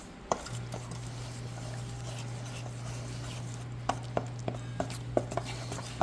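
A spoon scraping and knocking in a bowl of thick cornmeal batter, with quiet continuous stirring and a series of small sharp taps near the end, close and fairly faint, with no talking.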